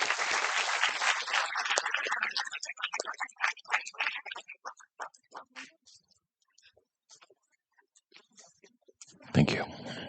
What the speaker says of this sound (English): please join me in welcoming him with a great round of applause